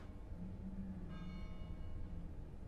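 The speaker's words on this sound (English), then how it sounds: "I can hear the bells chime in the distance." Distant bells chime faintly in the Fears to Fathom video game, a soft tonal ring rising over a steady low background hum for a couple of seconds.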